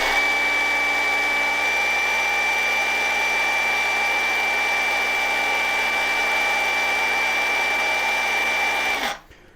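An Ingco 20V cordless chainsaw runs flat out with a loud, steady high-pitched whine held close for about nine seconds, then cuts off abruptly and winds down.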